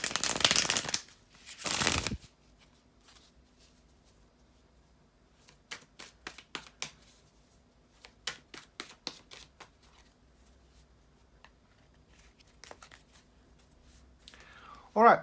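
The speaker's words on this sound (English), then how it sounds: "to shuffle the tarot cards" Tarot cards are riffled and shuffled in quick bursts of crisp flicking, a couple of heavier rustles at the start, then rapid snapping runs.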